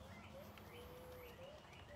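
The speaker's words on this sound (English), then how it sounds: "Oh, there's a bird chirping, not a turd," Faint outdoor bird chirps, thin high whistled notes, quiet and distant over steady ambient background noise.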